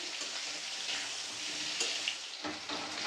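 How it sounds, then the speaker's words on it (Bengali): Pieces of young jackfruit fry in hot oil with a steady, close hiss and crackle that carries on without a break, a few louder pops standing out toward the end. "দেখুন এঁচড়টা ভালোভাবেই ভেজে নিয়েছি"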